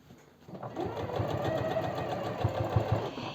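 A sewing machine topstitches around the waistband of men's jeans, running at a steady rapid pace from just after the start, fairly close and continuous.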